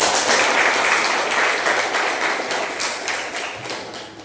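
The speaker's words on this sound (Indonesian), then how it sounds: "tepuk tangan untuk Kristina." A room full of people claps together, a dense, bright patter of applause that gradually tapers off toward the end.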